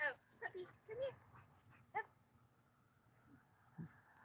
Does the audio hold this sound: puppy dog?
yes